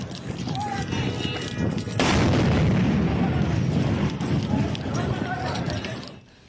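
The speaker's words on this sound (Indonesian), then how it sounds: "Ledakan terdengar di Doha" Israeli air strikes on Doha, Qatar set off loud, sustained booming with rumbling blasts that swell at about two seconds and continue densely before fading, with voices mixed in throughout.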